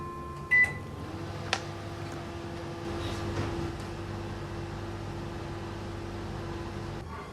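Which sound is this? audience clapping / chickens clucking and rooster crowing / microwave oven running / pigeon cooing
microwave oven running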